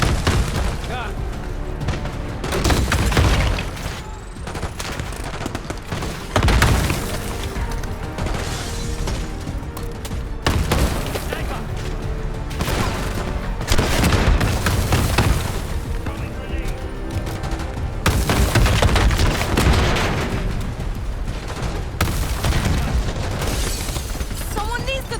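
Rocket launcher blasts and gunfire in the Call of Duty Black Ops 6 video game, with repeated heavy booming explosions every few seconds and crackling battle noise, loud and continuous, with voices speaking in between.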